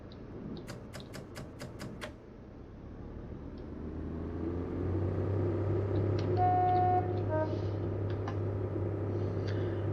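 A Class 142 Pacer diesel train in Train Sim 2020 speeds up, its low engine drone rising and steadying into a loud continuous rumble, with a quick series of short beeps early on and brief tones partway through.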